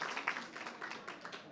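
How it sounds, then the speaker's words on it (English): Audience applause at a World Bank event on energy access in Africa, a steady wash of many hands clapping at moderate distance, fairly quiet and continuous without voices. "please, a round of applause"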